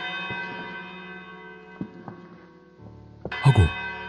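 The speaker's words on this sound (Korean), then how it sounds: "갑자기 종소리가" A church-style bell ringing out suddenly, heard in a ghost story about demolishing an abandoned monastery in Japan; sustained tonal ringing with a few struck accents, then a louder burst of strikes near the end.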